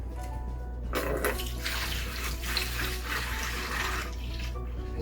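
A gallon of vinegar glugs and splashes steadily into a pump sprayer for about three seconds, a close, continuous liquid pour with a quiet background before and after.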